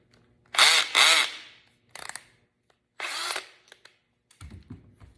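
Cordless hammer drill driving a screw into soft wood in short bursts: two strong whirring runs, a brief blip, another run, then a few clicks and low thuds.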